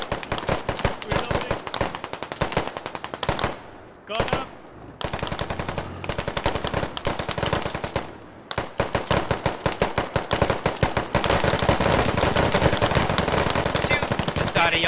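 Rapid automatic gunfire from the military shooter game Squad rattles in long, dense bursts with a few brief pauses, loud and close, with scattered distant shots between.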